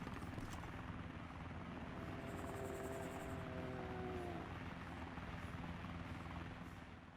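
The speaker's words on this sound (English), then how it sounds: "all of a sudden, I heard some sort of helicopter maybe? Oh no. That's a VTOL." A VTOL aircraft in the video game Arma 2 (DayZ) drones steadily in the distance, a continuous whirring hum with a faint rising whine in the middle.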